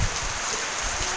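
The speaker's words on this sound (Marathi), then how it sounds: "हे बघा अशी जोरदार सर आले पावसाची" A heavy rain shower pours down in a steady, dense hiss, close and loud, with no voices.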